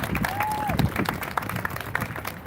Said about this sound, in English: give those girls a round of applause